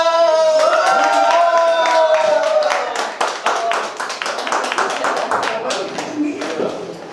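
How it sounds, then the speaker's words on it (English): Audience clapping at a live writing session, sharp separate claps gathering over a lingering vocal or tonal sound at the start, then scattered handclaps thinning out toward the end. "Put your hands together for Nuno!"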